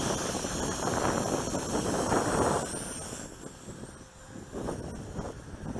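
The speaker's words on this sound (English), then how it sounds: "It's really windy right now. The wind just picked up a little bit" Strong gusts of wind buffet the microphone outdoors during a Wltoys Q333-B quadcopter flight, a loud, steady roar that swells, then eases and returns, with a faint motor whine underneath.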